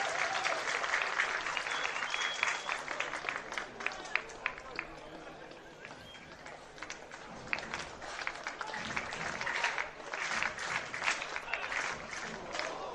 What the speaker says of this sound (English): As the crowd gets into it and starts clapping for what could be the last pitch of the game.